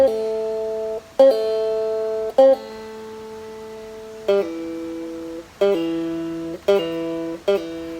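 Bright plucked notes on a Thai phin lute, played in short phrases with clear attacks and a ringing sustain between plucks, with no voices.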